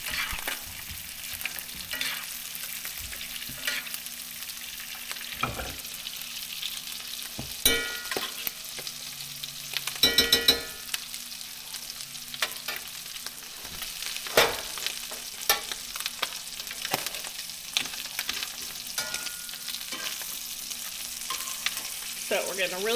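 Garlic and herb trout sizzling in hot butter as it is basted in a pan, with a continuous crackling fry and frequent spoon scrapes and clinks, close and fairly loud.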